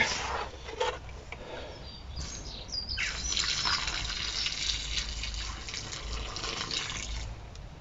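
Water pours steadily onto freshly planted cucumber seedlings in a small hollowed basin of garden soil, with birds chirping outdoors and no one talking.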